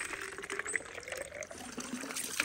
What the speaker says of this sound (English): I found a cattle trough. I could fill all my water bottles up.